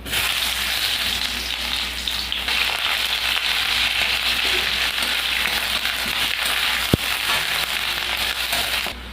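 Onion frying in a pan of hot oil with panch phoron and a dried red chilli, before red amaranth greens go in: a steady, dense sizzle that holds at one level throughout, with one sharp click near the end.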